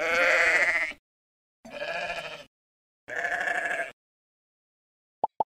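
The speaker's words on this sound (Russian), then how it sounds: "Правильно, это овца." A sheep bleats three times in long, wavering cries separated by short silences, loud and close, followed by two tiny clicks at the end.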